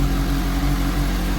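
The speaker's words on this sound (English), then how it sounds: "This is what it sounds like bone stock with the factory stock exhaust on there." A 2023 Suzuki GSX-S750 motorcycle idles on its stock factory exhaust, a steady, fairly quiet low burble with an even pulsing throb, close by and alone.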